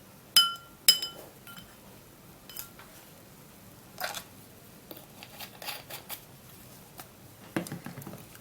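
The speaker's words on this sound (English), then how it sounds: "I would first of all like to stir it up to see the consistency that I've got first." A spoon stirs sandalwood powder mixture in a bowl: sharp, close clinks at first, then scattered softer taps and scrapes at an uneven pace.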